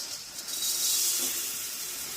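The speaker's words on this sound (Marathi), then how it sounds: "आता या कढईमध्ये आपण हे मुरमुरे टाकूया" Puffed rice (murmure) tipped into a hot kadhai on a gas flame gives a steady, close, bright hiss and rustle that swells slightly mid-way and runs on without a break.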